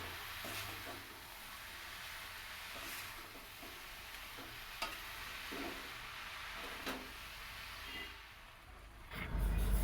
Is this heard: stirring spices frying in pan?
yes